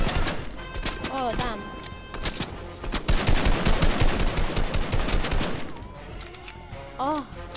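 Bursts of video game gunfire, rapid cracking volleys loud and close, with a sustained heavy stretch midway and sparser shots around it; a voice talks briefly between bursts.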